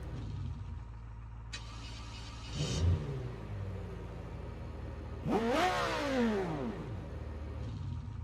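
The Civetta Scintilla's engine in BeamNG.drive starts with a crank and settles into a steady idle, then revs up sharply in a rising and falling sweep, with a smaller blip near the end.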